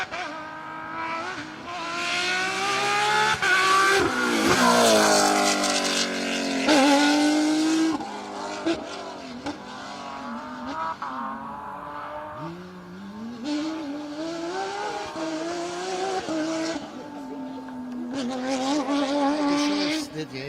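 Rally cars on a special stage at Rally Wervik 2022, including Porsches and a Mitsubishi, approach and pass with loud revving engines and shifting gear changes, rising and falling as they go by, with faint commentary voices.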